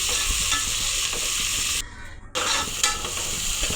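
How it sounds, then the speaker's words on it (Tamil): Onions, curry leaves and green chillies fry in oil for a tomato biryani, giving a steady, close, dense sizzling hiss with faint stirring, broken by a brief quieter pause midway before the crackle resumes. "ஒரு கிறிஸ்பியாக மொறுமொறுன்னு ஆகிற வரைக்கும், ப்ரௌனிஷ் ஆகிற வரைக்கும் நம்ம நல்லா வதக்கிக்கலாம் இந்த எண்ணெயிலே போட்டு"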